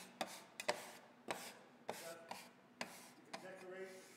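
A scraper dragged across a work surface to gather leftover flour while making sugar and gingerbread cookies: a series of short rasping scrapes at a steady pace, close and quiet.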